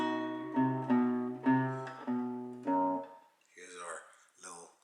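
A classical guitar plays a flamenco melody, about six plucked notes in a slow, decaying sequence, close and moderately quiet, before a voice starts talking briefly at the end.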